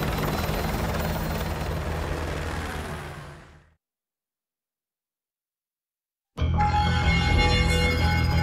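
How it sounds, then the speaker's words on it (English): Helicopter rotor noise in Call of Duty Modern Warfare 2 Remastered drones loudly, fades out into silence, then cuts back in abruptly. "I'll brief you on the chopper."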